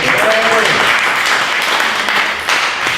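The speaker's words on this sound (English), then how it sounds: "Just applause there" Loud, dense applause from the audience at a public meeting about keeping the NHS public, a continuous wash of clapping filling the room, with a brief tonal sound near the start.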